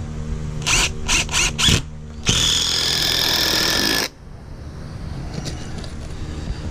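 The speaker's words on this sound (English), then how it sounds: "I'm going to put a couple more screws just to hold it good." A power drill drives screws through a 1x board into a 2x6 frame of a wooden raised garden bed: four short whirring bursts, then one long sustained run of about two seconds, loud and close, with no talk.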